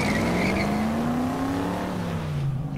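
A car in a horror movie crash scene, its engine revving loudly with a rising then falling whine and tire noise, steady and close, with no voices.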